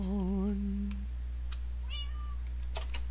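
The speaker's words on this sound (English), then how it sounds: "Meow." A cat gives a single wavering meow up close, followed by a couple of fainter, shorter mews and soft clicks over a steady low hum.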